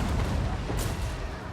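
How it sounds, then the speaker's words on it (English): Cannon fire in the fantasy strategy game Total War: Warhammer 3, with Empire artillery shelling an enemy Grudge Thrower, a dense, continuous low battle rumble of booms and gunfire and a brief hiss about midway, loud throughout. "both of our units of cannons have been trying to fire on the enemy Grudge Thrower"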